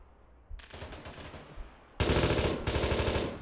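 Automatic gunfire in ArmA 3, a quieter distant burst followed by much louder, closer sustained fire for the last second and a half.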